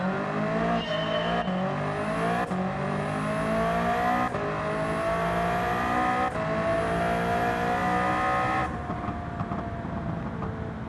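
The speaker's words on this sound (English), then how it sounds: "What's the other exhaust sound like?" A racing car engine in a video game revs hard through several rising gear shifts, each climb in pitch ending in a sharp drop, then fades away.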